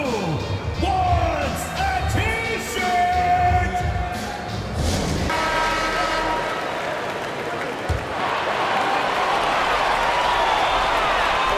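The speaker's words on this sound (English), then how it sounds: "So the home crowd happy here as they get the victory." A home crowd at a Philippine Cup basketball game cheers the win with a sustained arena roar, loud and steady beneath a commentator's excited talk, with scattered clapping in the mix.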